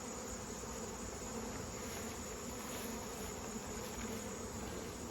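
Honeybees hum at an opened hive, a dense, continuous buzz of many insects, low in level and steady throughout, with no talking.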